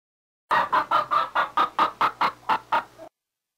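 An odd bird in the Frightville: Open House video game clucks about eleven times in a quick, even run of loud, close calls, then stops.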